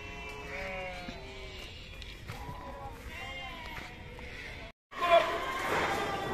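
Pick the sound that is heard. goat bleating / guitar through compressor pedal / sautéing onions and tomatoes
goat bleating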